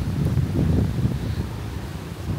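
Strong wind gusts across a beach in Vietnam, a steady low roaring rumble buffeting the microphone with no talking.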